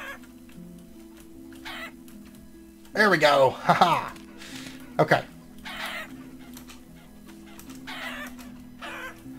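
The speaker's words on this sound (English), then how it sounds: "look at all the chicken, the hens and roosters that I've got in there." Hens and roosters cluck in a farming pen in the video game Vintage Story, with scattered bursts of squawking and clucking, loudest in the middle, while someone talks briefly and laughs.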